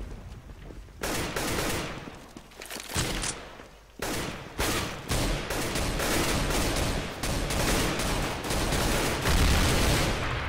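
Rapid bursts of video-game gunfire from Counter-Strike: Global Offensive, loud and near, with dense automatic fire in repeated clusters and short pauses between volleys.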